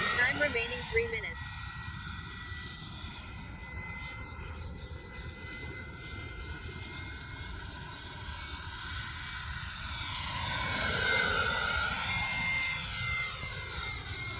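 A Freewing A-10 80mm RC jet with twin ducted fans holds a steady high-pitched whine through a 360-degree high-G turn, swelling louder and shifting pitch near the end, heard from the ground at moderate distance.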